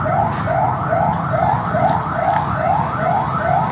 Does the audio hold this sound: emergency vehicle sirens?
yes